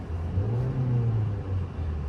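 A 2010 Ford Fiesta's old-school naturally aspirated four-cylinder engine revs steadily, a loud close droning hum that swells and holds without any talking.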